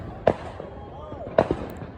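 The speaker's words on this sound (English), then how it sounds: "What's that noise, you guys? Fireworks." Fireworks go off in a field behind a house, two sharp distant booms about a second apart with a faint crackle after the second. Soft voices and background noise can be heard throughout.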